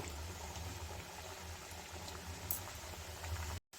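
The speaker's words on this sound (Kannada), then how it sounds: "ಇದನ್ನು ಇದೇ ರೀತಿ ಗೋಲ್ಡನ್ ಬ್ರೌನ್ ಬರೋವರೆಗೂ ಫ್ರೈ ಮಾಡಿ ತಗೋಬೇಕಾಗತ್ತೆ" Sweet batter fries in hot oil over a low flame, a steady soft bubbling sizzle that holds evenly throughout, close and moderately quiet.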